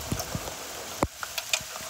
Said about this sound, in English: Starting to get hail now.